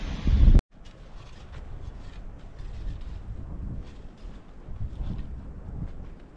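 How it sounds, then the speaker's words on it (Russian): After a brief loud thump at the start, low rumbling wind buffets the microphone steadily outdoors in snow, gusting unevenly with no speech. "Ох, ветер сегодня."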